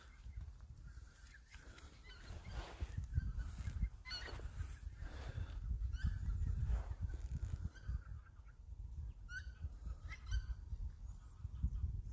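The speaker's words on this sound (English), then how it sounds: "Are you guys hearing those birds?" Birds call and honk outdoors during a bike ride, scattered bursts over a steady low rumble of wind or distant traffic.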